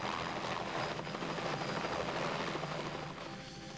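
A helicopter flying toward the ice floes of the Gulf of St. Lawrence, a steady, loud rotor and engine roar that dips slightly near the end, with no voices.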